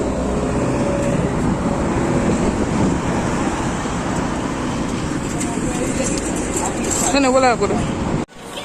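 A bus on a sunny Jamaican street gives a continuous low engine and road rumble, with people talking over it, before the sound cuts off abruptly.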